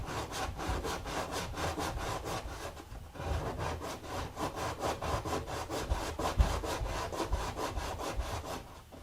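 Steady back-and-forth rasping of sandpaper on a wooden guitar brace inside an HD-28 acoustic body, close and continuous with a quick regular stroke rhythm and no talking.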